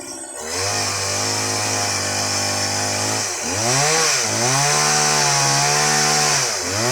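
A chainsaw bites into wood, its engine holding a steady high whine, then dipping and revving back up in bogging surges as the chain loads in the cut; loud and close.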